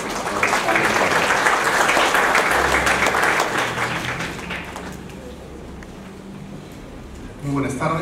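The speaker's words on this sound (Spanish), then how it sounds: "Recibamos con un fuerte aplauso" A lecture audience claps loudly and steadily for several seconds, then the applause fades out and a voice begins to speak.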